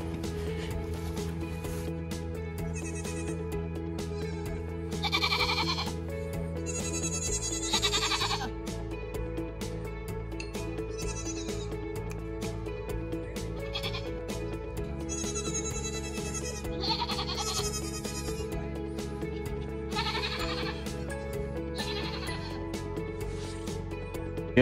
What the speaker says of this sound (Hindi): भैया अमेरिका की बकरियां देख लीजिए।